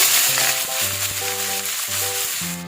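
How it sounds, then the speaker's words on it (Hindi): Onions and cumin fry in hot oil, a dense, loud, continuous sizzle that runs throughout under a layer of steady melodic background music. "1 मिनट इसको पकाने के बाद इसमें हम प्याज डाल देंगे।"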